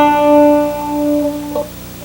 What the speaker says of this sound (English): As you reach the end of the slide, you pluck the first string open, so it sounds like this.